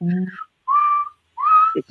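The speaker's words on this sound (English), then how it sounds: "There's one whistling at me." A person whistles three short, rising notes with pauses between them, clear and close against a quiet background.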